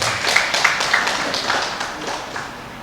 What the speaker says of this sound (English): I think it deserves a round of applause.